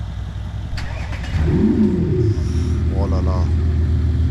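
Mercedes CLS 63 AMG V8 fitted with a full exhaust system, rumbling steadily and growing louder from about the midpoint as the revs rise, with a short exclamation spoken over it.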